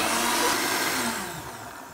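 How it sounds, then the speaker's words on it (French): A food processor blends milk, tofu, brewer's yeast and mushrooms for a vegetarian Christmas dish, giving a loud, steady whirring drone close by that slowly fades and drops in pitch toward the end. "on va laisser bosser un petit peu le robot"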